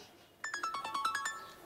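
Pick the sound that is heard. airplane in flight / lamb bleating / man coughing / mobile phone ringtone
mobile phone ringtone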